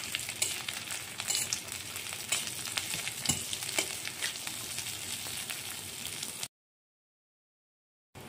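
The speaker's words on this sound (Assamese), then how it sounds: "ঘিখিনি গলি গ'ল, ইয়াতে দি আছোঁ কাজু বাদাম আৰু কিচমিচখিনি।" Cashews and raisins frying in melted ghee in a wok for kheer, a steady close sizzle with crackles and stirring, then a sudden cut to silence near the end.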